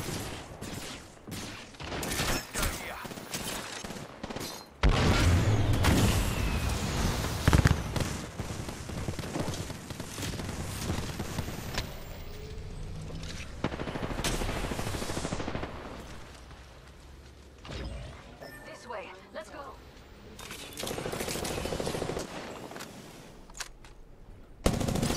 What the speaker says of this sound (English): he shoots like 3 bullets and then that's it